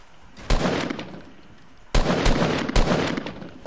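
Bursts of rapid gunfire from a video game, two dense volleys with a short gap between them, loud and close with no talk over them.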